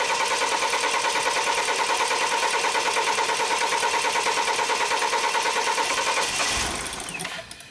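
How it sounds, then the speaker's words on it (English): The starter of a BMW X3 that cranks but won't start whirs in a fast, steady, even pulsing rhythm for about six seconds before winding down and cutting off, loud and close. "So now we're gonna start the engine."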